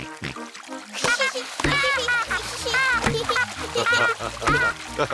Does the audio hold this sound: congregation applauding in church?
no